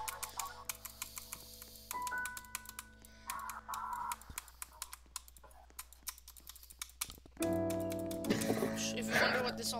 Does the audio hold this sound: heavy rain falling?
no